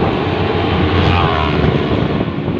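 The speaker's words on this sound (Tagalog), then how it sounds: "Grabe, bibilis po ng mga motor na yun." Fast 200cc motorcycles pass on a city road near SM City Taytay, a loud continuous roaring engine whoosh that swells and fades with broadband traffic rumble.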